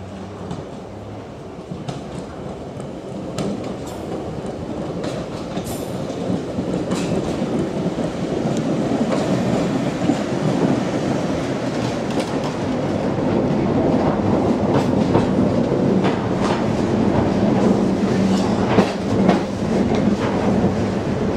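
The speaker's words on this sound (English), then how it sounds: "My train's coming in first" A train on the Isle of Wight's Island Line rumbles steadily along the rails, its clickety-clack growing slightly louder and closer, with no voices.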